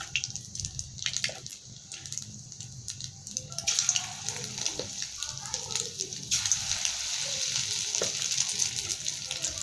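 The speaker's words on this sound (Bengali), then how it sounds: "এবার যেটুকুনি তেল রয়েছে সেই তেলে আমি আর একটু যে বাকি রয়েছে সেটা আমি ভেজে নেব" Chicken fries in the last bit of leftover oil for chilli chicken, a steady close sizzle with stirring clatter and drips, growing louder and denser toward the end.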